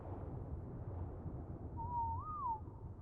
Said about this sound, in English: I'll just whistle for it to stop following me and to go passive